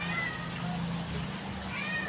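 A noisy pet cat meows nearby over a busy background, with people talking around it.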